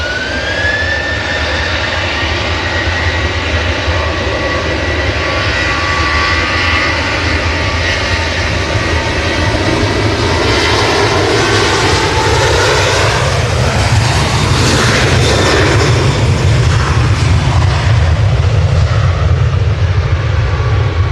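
Aer Lingus airliner departing Manchester Airport, a loud continuous jet engine roar with a rising whine, building in intensity toward the end as the aircraft passes close, no talk.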